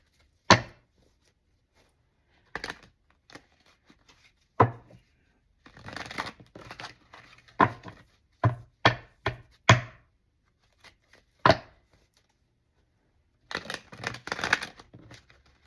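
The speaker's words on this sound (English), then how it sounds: "I just want to make sure you have a good shuffle." Tarot cards being shuffled in scattered bursts of crisp riffles and taps, close and fairly loud, separated by quiet gaps.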